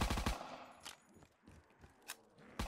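A Thompson submachine gun in Call of Duty Black Ops 3 Zombies fires a quick opening burst of rapid shots, followed by scattered single bangs and clanks over a short, fairly quiet stretch.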